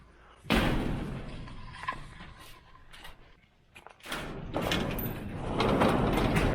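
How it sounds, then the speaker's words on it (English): A heavy barn door rolls shut on a cold calving farm, with a loud sliding rumble and thud near the start, then softer clunks and a second long sliding rumble toward the end. "So we're gonna shut these doors."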